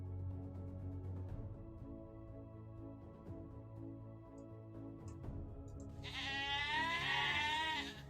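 After several seconds of quiet room noise, a single loud, close goat bleat rings out with a shaky, quavering pitch near the end, triggered during a Lego building stream.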